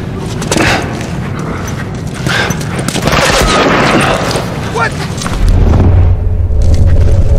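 Gunfire in the video game The Last of Us, a run of loud booming shots and impacts spread across the clip amid game ambience, ending in a heavier low rumble.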